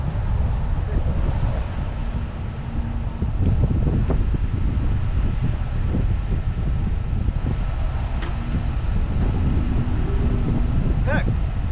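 Wind roars and buffets steadily through a snow storm on Illinois Highway 57, where a 2020 Mustang sits stuck, making a loud, continuous low rumble that fills the whole stretch.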